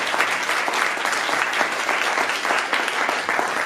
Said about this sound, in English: Shall we please give a warm round of applause to Dr. Andy Ray, Colette Machado,